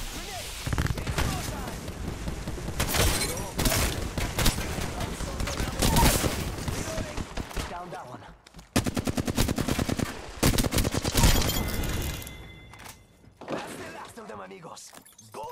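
Sustained automatic gunfire in an Apex Legends match, long machine-gun bursts and rattling single shots with short pauses, mixed with voice lines and talk over the shooting.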